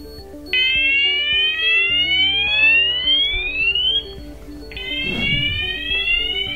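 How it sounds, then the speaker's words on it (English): A C-TEC Hush Pro Grade C fire alarm for flats sounds Fire Level 1 with loud, repeated rising electronic sweep tones, a short gap before the pattern restarts and a brief dull knock midway, with no talking. "So we'll trigger Fire Level 1 now."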